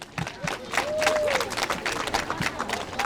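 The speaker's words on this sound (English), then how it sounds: "Give yourselves a big round of applause." A school crowd of students at a time capsule ceremony bursts into sustained clapping that fills the whole space, with a few voices and a brief whistle mixed into the applause.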